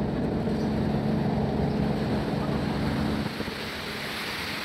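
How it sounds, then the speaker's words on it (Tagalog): Water from a passing ferry's wake splashing on the Pasig River, a rough close churn mixed with wind buffeting the microphone, easing slightly toward the end. "Lakas ng alon ng Perry na yun, ah."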